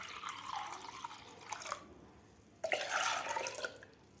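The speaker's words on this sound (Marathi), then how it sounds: "आता यामध्ये आपल्याला थंड पाणी घालायचं आहे." Cold water poured into a large bowl of curd while making ragi ambil, in two steady splashing bursts at moderate, close range with no talking.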